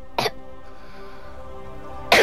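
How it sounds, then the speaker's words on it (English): Two short, sharp coughs, one near the start and one at the end, over a steady humming background of Destiny 2 gameplay. "Sorry if I'm coughing a lot in the video."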